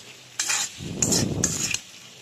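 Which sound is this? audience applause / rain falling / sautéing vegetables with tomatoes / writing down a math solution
sautéing vegetables with tomatoes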